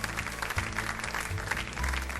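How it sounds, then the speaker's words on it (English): Applause for a guest of honor at a medal finale event, a dense, continuous crowd clapping with low hum underneath. "Let's keep that applause going for our guest of honor here today."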